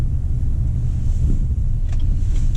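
A 2019 Chevy Silverado RST pickup with a 5.3 liter engine driving on a cold day, heard from inside as a steady low rumble of engine and road noise with a faint hiss, no talking.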